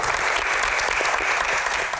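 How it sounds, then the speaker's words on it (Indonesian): Loud audience applause at a Q&A event, continuous dense clapping throughout, with no talk over it. "tepuk tangan dulu dong"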